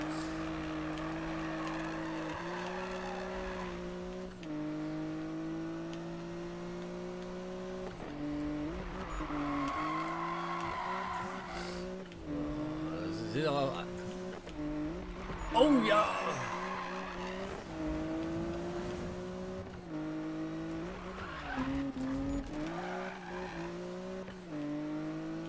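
A taxi races fast in the Need for Speed video game, its engine whining and rising through gear changes with repeated tire squeals and skids, under someone talking.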